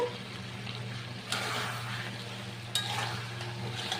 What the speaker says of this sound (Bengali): পনিরগুলো দেওয়ার পরে কিন্তু ভালো করে নেড়ে নিতে হবে